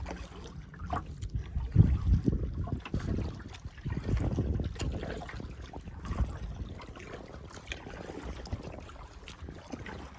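Kayak paddling on Big Cypress Bayou at Caddo Lake, heard as a soft, irregular wash of paddle strokes and water splashes mixed with light wind rumble, with no voices.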